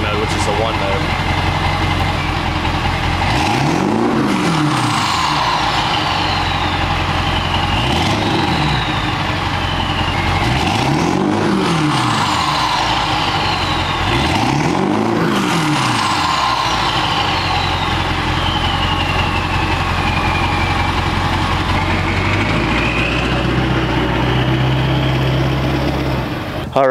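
Ford 7.3 L Powerstroke diesel truck engine, tuned and rolling coal, revving loudly in four rising and falling bursts over a steady idle, close by, with a higher whine trailing each rev.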